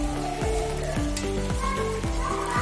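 A spoon stirs gajar ka halwa, grated carrot cooking down with milk and sugar in a pan, making a steady sizzle with a repeated scraping rhythm about twice per second, close and alone.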